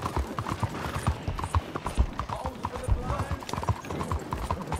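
Horse hooves clip-clop steadily in Red Dead Redemption 2, a fast, even rhythm of close, moderately loud hoofbeats that continues throughout with low game ambience beneath.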